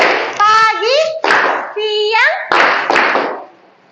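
Schoolchildren in an Indonesian classroom play a rhythmic clapping game, chanting in unison between bursts of sharp hand claps, close and loud, with the rhythm stopping and starting.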